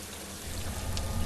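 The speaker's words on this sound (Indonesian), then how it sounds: "Kondisinya pun udah hujan lebat." Heavy rain pours down in a forest camp, a dense, steady hiss of falling water with a low rumble underneath, filling a brief moment on its own.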